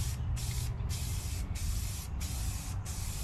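Ultra Cover flat primer hisses from a spray can in four or five steady bursts with brief gaps between, close and loud, no voices.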